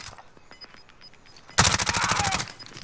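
Rapid automatic gunfire in a Call of Duty-style battle royale match erupts suddenly after quieter in-game sounds, a loud, dense burst of rattling shots lasting about a second before trailing off into lighter echoing activity.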